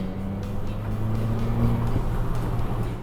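SUV with a 1.5-liter engine accelerating on the road, a steady low engine drone building gently and holding close throughout, with no talk.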